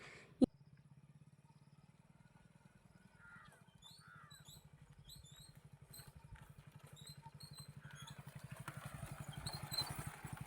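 Motorcycle ridden along a road near Chengalpattu, its low engine throb running steadily and growing louder toward the end, with a sharp knock at the start and crows cawing faintly in the background.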